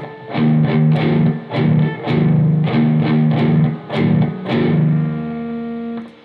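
A distorted electric guitar plays a slow riff, sustained overdriven chords and picked notes in a steady rhythm, ending on a lingering ring.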